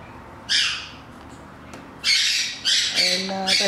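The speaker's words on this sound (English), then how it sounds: "And that's my birds going off." Pet birds squawk indoors ahead of a storm. Loud, harsh screeches come in several separate bursts, close by, and a few tonal hoots or coos sound near the end.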